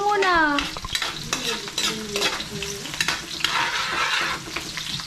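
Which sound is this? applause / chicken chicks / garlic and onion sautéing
garlic and onion sautéing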